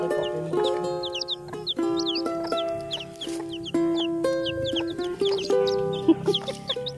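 Chickens and chicks on a rural farm cluck steadily, with high peeping chirps of chicks scattered over lower hen clucks, close and continuous without talk.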